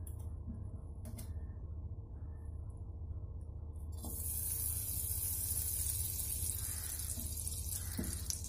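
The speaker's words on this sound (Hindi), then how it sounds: "अब हम इसी कढ़ाई में थोड़ा और घी डालेंगे" Ghee added to a hot kadhai while making wheat-flour laddoos: after a quiet stretch with a couple of soft knocks, a steady hissing sizzle rises and holds close by, with a few faint clinks.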